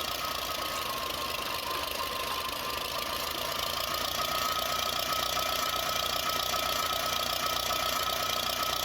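A 1960s tractor engine idles steadily on a farm, a continuous close mechanical rumble with a knocking, rattling texture that holds at an even level throughout, with no one talking.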